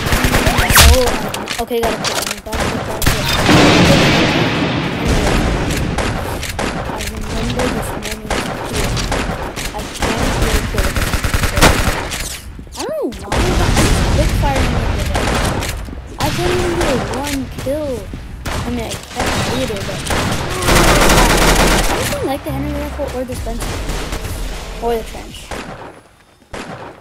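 Gunfire rattles through a session of the Roblox shooter Arsenal, with repeated bursts and single shots close and loud under frequent talking from a player throughout.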